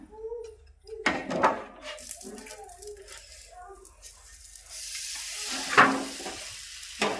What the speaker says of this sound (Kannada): ಇದನ್ನು ಹಂಚಿ ಹಾಕೊಂಬಿಡಮ್ರಿ ಹಂಚಿ ಮತ್ತೊಂದು ಸ್ವಲ್ಪ ಎಣ್ಣೆ ಹೊಡ್ದಿನ್ರಿ